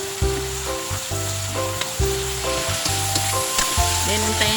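Chicken pieces sizzle loudly in a hot pan, with steady frying crackle and repeated rhythmic scraping as the meat is stirred and turned, no speech.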